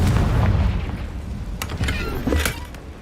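The Confringo blast spell in Hogwarts Legacy goes off with a loud, booming burst that rumbles and decays over a few seconds, with a second thud near the end.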